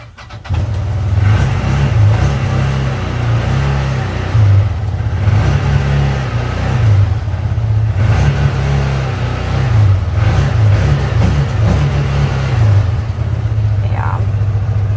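A loud CFMOTO UForce 1000XL utility vehicle engine idles and revs repeatedly in steady surges, close by, with a faint voice at one point.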